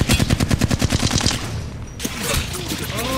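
Rapid bursts of automatic gunfire in the shooter game Apex Legends during a Season 16 ranked match, a loud, fast, evenly spaced volley that stops abruptly and gives way to scattered game effects.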